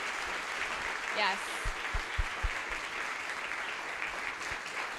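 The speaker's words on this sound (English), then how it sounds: "I just want to give a warm round of applause for our panelists today" Conference audience applauding panelists at the close of a health panel, a moderate, fairly distant patter of clapping with a few sharper close claps, and a brief spoken word at the start.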